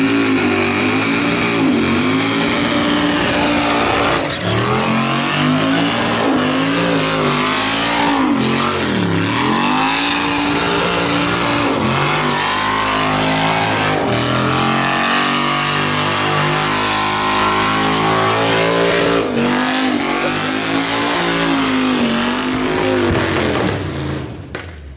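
A Chevrolet El Camino burnout car with a race motor revs hard and continuously, the loud, raw engine note rising and falling through repeated throttle blips, dominating the scene with no talk.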